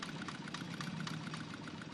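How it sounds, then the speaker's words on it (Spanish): Boat engines drone on the Grand Canal in China, a constant, faint, mid-pitched mechanical hum with a light knocking pulse, steady throughout with no voices. "El ruido de tantos motores en el Gran Canal hace a su ambiente muy diferente del siglo XIII"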